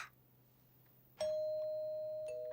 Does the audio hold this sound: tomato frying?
no